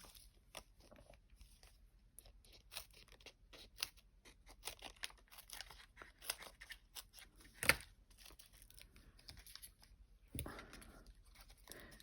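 Scissors trim foam pads for card making, producing faint, quiet snips and crunchy cuts that come in a loose, uneven series, close up with no talking.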